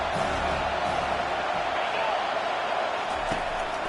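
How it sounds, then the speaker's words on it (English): A stadium crowd at an American football game roars in a steady, dense wall of cheering throughout, with an announcer's voice faintly mixed underneath. "this crowd is turning it up a notch"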